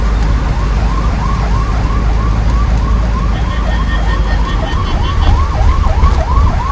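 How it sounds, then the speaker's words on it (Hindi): Ambulance siren wailing in a continuous rising-and-falling pattern amid Bangalore traffic, loud and close over a low rumble of engines and road noise, heard from inside a Mitsubishi Pajero Sport. "एम्बुलेंस को जाने देते हैं"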